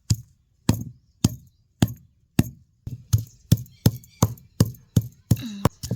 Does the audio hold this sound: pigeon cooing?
no